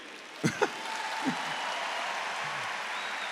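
An audience gives a few sharp claps at a Catholic talk, followed by scattered, quiet applause that lingers faintly in a roomy space.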